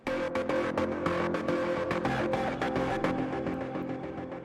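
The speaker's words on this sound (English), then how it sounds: "It's a sort of a ping pong, distorted ping pong." Zebra 2 synth run through a Space Tap distorted ping-pong echo: dense, gritty tonal chords with sharp rhythmic repeats bouncing steadily, loud and continuous with no voices.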